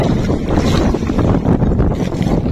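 Wind blowing steadily over a small boat at sea during squid fishing, a loud continuous buffeting roar with gusty surges and microphone rumble, no talk heard.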